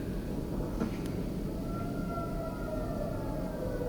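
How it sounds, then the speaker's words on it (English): A steady, droning air raid siren wails in the distance in Tel Aviv over a constant low rumble of background noise, with no voices. "The air raid sirens were still sounding in Tel Aviv when a missile hit."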